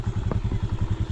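A motorcycle is ridden slowly into a parking spot beside a house on a jungle path, its engine thumping in a steady low pulse, close and fairly loud with a brief clatter.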